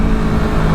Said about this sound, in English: Some downshifts.